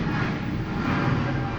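A fixed-wing airplane passing close to a nearby airport, a steady broad engine roar filling the clip, loud and unbroken, with no voices over it.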